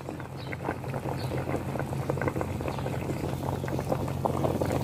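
A pot of fish soup boils steadily with dense bubbling and popping close by, a continuous simmering churn with a low hum beneath, no voices.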